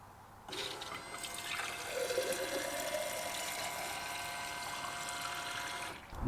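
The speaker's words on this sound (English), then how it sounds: "It then pumps out and then it drains into the empty one." A small water pump in a camper van drinking-water setup runs steadily, pushing water from a 5-litre bottle through to drain into an empty container, with a constant gurgling flow and faint hum throughout.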